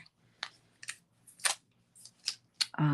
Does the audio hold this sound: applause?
no